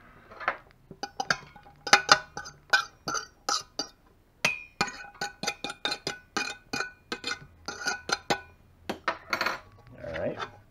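Chopped carrots and onions are scraped off a board into an Instant Pot, giving a run of sharp, close clacks and scrapes in quick irregular bursts with short gaps between them.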